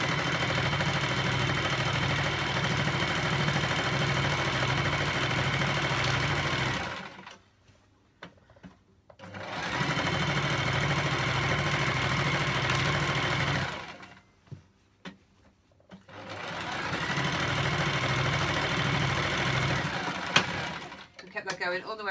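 A sewing machine stitches fabric around in a circle for pajama bottoms, a steady close mechanical whirring hum in three long bursts separated by short pauses.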